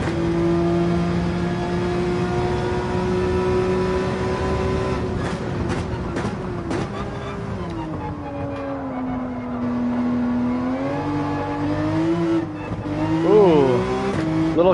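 A Porsche 911 races in GT7 at the Nurburgring, its engine holding a loud, steady high whine through the gears with quick shifts and brief revving swoops near the end, alone without talk.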